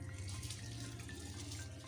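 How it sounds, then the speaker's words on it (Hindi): Soaked rice is poured into a pot of boiling water for kofta biryani, giving a faint continuous watery rush and bubbling with no voices. "ये सारा चावल मैं इसमें डाल रही हूँ।"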